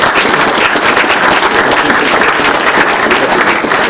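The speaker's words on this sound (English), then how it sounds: "have a round of applause for all of our first responders" A loud, close round of applause for first responders at a police K9 introduction, dense continuous clapping filling the whole moment without a break.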